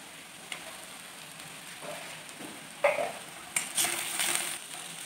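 Onion browned in a pan with ginger-garlic paste just added for a soya corn curry, giving a soft steady sizzle with a few louder spits and scrapes toward the end.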